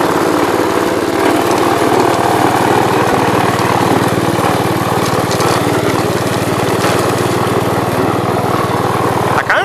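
A Gravely commercial mower's engine runs loud and close in a steady, unbroken drone with an even low throb for the whole stretch, with no voices over it.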